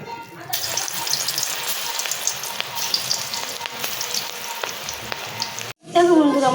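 Pakoras fry in a hot kadai with a continuous close crackling sizzle and occasional clicks, broken near the end by a short gap and a burst of different noise.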